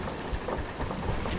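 Heavy rain and rumbling thunder of a violent sea storm in Sea of Thieves, a dense, steady downpour roaring throughout with low rolling swells of thunder underneath and no voices.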